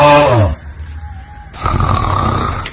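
A woman snores loudly and raspily while asleep outdoors under a coconut tree near rice fields, with long rough snoring breaths filling the clip after a brief pause.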